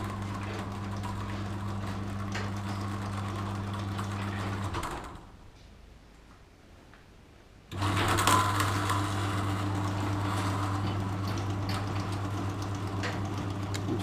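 A Firmamatic automatic garage door opener drives the door, a steady motor drone with rattling, which stops for a few seconds of near silence and then starts again, running continuously and close by.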